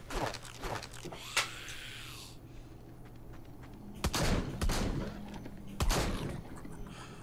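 A new gun in the video game Arizona Sunshine fires in short bursts of sharp, loud shots, scattered across the stretch with quieter gaps between volleys.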